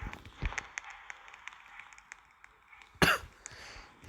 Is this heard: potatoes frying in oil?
no